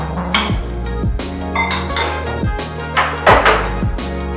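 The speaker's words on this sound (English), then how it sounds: "Give this a nice little stir." Utensil scraping and clinking in a pan as peanut sauce is stirred into a chicken noodle stir fry, with repeated metallic knocks and scrapes at an irregular rhythm, close and fairly loud.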